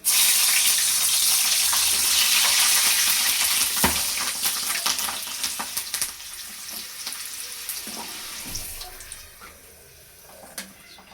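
Onion bhaji fry in hot oil, giving a loud, dense sizzle at first that gradually thins to sparser crackles and pops as the frying settles.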